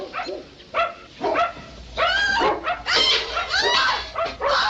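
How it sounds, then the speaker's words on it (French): A big dog barks and whimpers in a run of close, high yips and whines with short pauses between bursts, fairly loud and with no talk over it. "Je pense que c'est son chien."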